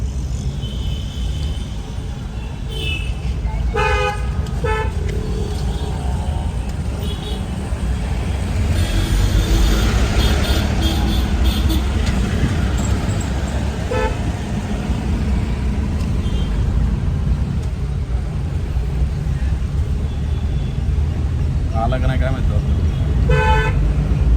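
Dense road traffic in Dombivli with steady engine rumble and several car horns honking in short bursts, close by and loud, under someone talking throughout.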